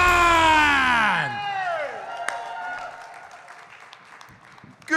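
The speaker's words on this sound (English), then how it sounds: "Please give a great round of applause for your host" A comedy show audience applauds to welcome the host. The applause rises as broadband clapping after a loud descending tonal sweep at the start, then continues steadily.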